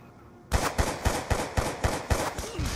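Automatic gunfire in the video game Black Ops 2: a close, rapid burst of about nine evenly spaced shots that starts suddenly after a brief quiet moment.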